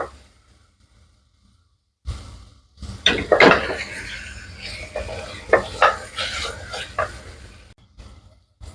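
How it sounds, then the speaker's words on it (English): Mutton being stirred in a cooking pot while making mutton handi, scraping spoon strokes and clinks over a sizzling fry, starting after a quiet pause and coming in irregular bursts, close and fairly loud, no talk. "Keep stirring the mutton."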